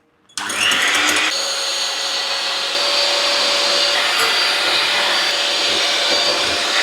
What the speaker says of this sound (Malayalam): ബീറ്റ് ചെയ്യാൻ പോകണം